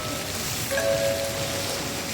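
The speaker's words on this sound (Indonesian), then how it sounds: "Derap air yang turun dari langit membasahi jalur." Light drizzle falls on a mountain trail in Sulawesi, a steady soft hiss of rain with no voices, holding evenly throughout with a faint thin whistle briefly rising above it.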